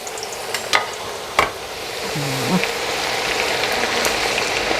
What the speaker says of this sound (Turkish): Yağımızı ısındı kontrol ediyor. Çok güzel ısınmışlar. Patateslerimizi içine atıyor.